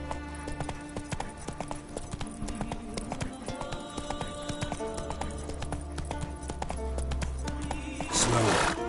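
Roach, a horse in The Witcher 3, gallops with a rhythmic clip-clop of hooves over background music, then gives a short, loud whinny near the end.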